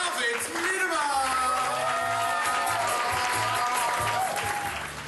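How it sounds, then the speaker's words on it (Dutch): A comedy club audience breaks into loud, full applause with cheers and whoops for comedian David Miedema, sustained throughout over a bed of walk-on music. "Dames en heren, geef een hartelijk applaus"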